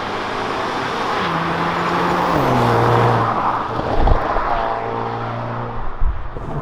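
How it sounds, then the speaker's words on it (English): A 2021 Hyundai Veloster N with an 8-speed DCT cruising on a highway, its engine droning loud and steady inside the cabin, rising in pitch, dipping at a gearshift, then pulling again over road noise. "right now we're driving on the highway with Veloster N with DCT"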